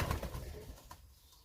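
A hen pigeon gives a short, soft coo up close, brief and fading quickly against a quiet room.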